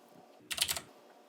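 A brief burst of typing on a computer keyboard, a few quick clicky keystrokes close by, with no talking over it.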